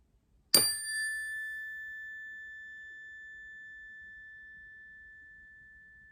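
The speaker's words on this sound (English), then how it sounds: "focus on the chime and the vibration and breathe as you normally would, with your main focus on the sound of the chime" A meditation chime is struck once and rings out alone, a clear pure tone that hangs and slowly fades over several seconds in a quiet room.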